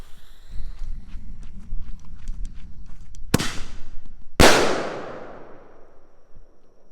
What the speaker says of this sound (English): Next we got the OG boombox, single shot salute.